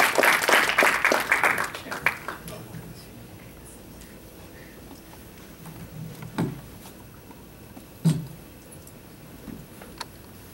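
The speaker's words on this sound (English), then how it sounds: "So please give a round of applause to Pastor Chuck." Audience at a seminary campus gathering applauds for a visiting pastor in a loud burst lasting about two seconds, then fades into quiet room noise with a few scattered thumps.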